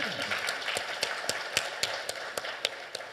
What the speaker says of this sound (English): You can applaud by all means.